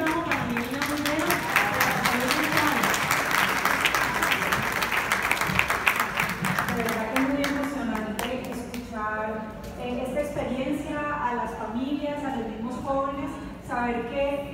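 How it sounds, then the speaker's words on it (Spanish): Audience applause at a community music therapy event, loud and dense for about eight seconds with voices over it, then fading as speech carries on. "yo quiero un aplauso para ellos"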